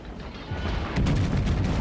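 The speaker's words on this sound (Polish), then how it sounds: "Kolejna salwa." A battleship in World of Warships fires a gun salvo, a deep rumbling boom that swells and holds as a heavy low roar, close and loud with no talk over it.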